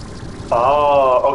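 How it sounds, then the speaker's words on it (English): A sudden hiss of water evaporating on a hot surface in Slime Rancher 2, a steady sizzling tone lasting about a second over a low background hum. "Water immediately evaporates the moment it touches that, so it's gotta be hot."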